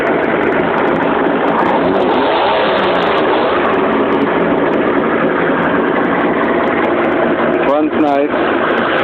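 Datsun Z engine with a Holley 4-barrel carburetor and a very lumpy cam idles loudly and continuously, its choppy uneven rumble steady throughout, with a short rev flare near the end.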